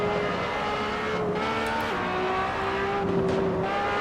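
LaFerrari engine in Assetto Corsa at Spa-Francorchamps, a loud, steady high-revving roar with shifting pitch as the car holds speed, close and continuous with no talk.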